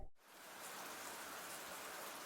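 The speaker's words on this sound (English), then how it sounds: "The sound of falling rain." Steady falling rain hisses evenly across the whole stretch, a broad continuous wash of droplets on a surface, starting after a brief quiet moment at the very beginning.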